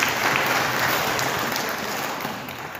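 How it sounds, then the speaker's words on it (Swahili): A church congregation at a Sunday worship service claps together, a dense, steady wash of applause from many hands filling the room for a few seconds, with no voices over it. "Pigia makofi."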